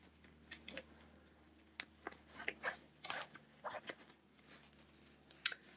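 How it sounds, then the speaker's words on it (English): Tarot cards are shuffled in the hands, giving faint, scattered riffles and soft slapping flicks in short irregular bursts against a quiet background. "Shuffling your cards. One more shuffle."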